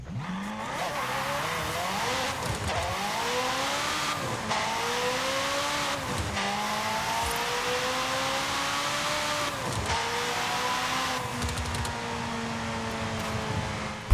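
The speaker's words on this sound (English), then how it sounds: "how nice this McLaren sounds when I try to drive it like a manual transmission with the clutch in" McLaren supercar in Forza Horizon 5 driven with a manual clutch on a dirt rally course: a loud, continuous engine roar rising through repeated revs and gear shifts, with brief drops between pulls and no talking.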